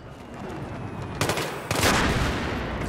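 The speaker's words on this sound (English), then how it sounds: "I fucking killed that guy with my RPG" Battlefield video game combat with an RPG rocket launching and exploding, two sharp loud blasts over a steady rumble of gunfire and game noise.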